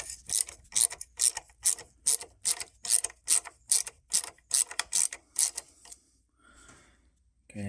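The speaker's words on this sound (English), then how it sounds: "8mm socket, pop it on there." A ratchet with an 8mm socket turns bolts during work on a kickstand, sounding as a regular series of about a dozen crisp clicking strokes, loud and close, that stops and leaves near silence.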